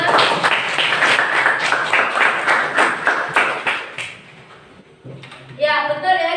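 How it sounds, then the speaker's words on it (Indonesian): A classroom of students claps for a classmate named Bima, a short burst of scattered hand claps lasting about four seconds, then fading out into quieter room sound with a faint tone near the end. "Tepuk tangan untuk Bima."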